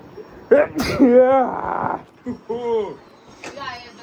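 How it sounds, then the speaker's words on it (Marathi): A single sharp human sneeze bursts out near the start, followed by talking and a short second burst, all close and loud indoors during a festive family gathering. "ही जी शिंक आली ना कालचे धुरल्याचे"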